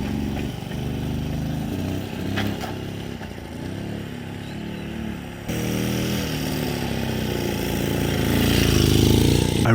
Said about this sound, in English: Because this rebuilt engine is effectively brand new, it needed to be run in once again.